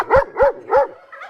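Dogs bark three times in a quick, even rhythm, followed by a softer whine, loud and close with no talking.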